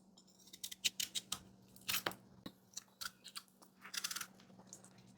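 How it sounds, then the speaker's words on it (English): A knife chops through five raw potatoes on a board, cutting them into chunks for a Trinidadian curry chicken: a rapid series of close, crisp crunching cuts with short pauses between strokes. "I just want to cut my potatoes in reasonably sized chunks."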